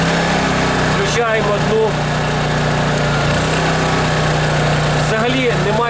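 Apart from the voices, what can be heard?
Champion 73001I-E inverter generator running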